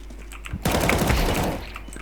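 Gunfire in Counter-Strike 2: a short, dense burst of rapid shots lasting under a second, loud and close, with faint ambient game noise around it.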